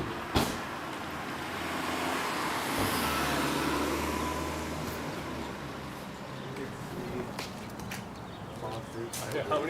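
Cars drive slowly along a Los Angeles street and pull in to park, a steady engine rumble with a door thud and light shuffling, while people talk over it.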